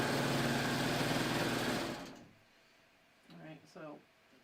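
A 3-thread serger overlock machine hums loudly and steadily up close as it chains off, then stops abruptly and is followed by a couple of brief mechanical clunks.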